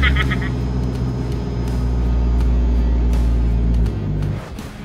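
Nissan 4x4 in third gear on soft off-road terrain in 4-high, a close loud engine drone with steady low harmonics that drop off near the end, a voice briefly over it.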